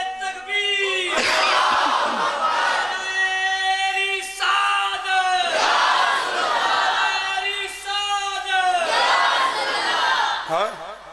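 A large gathering at a religious gathering for 13 Rajab chants loudly in unison in response to a takbir call, with three swelling waves of voices rising and falling, close and filling the space.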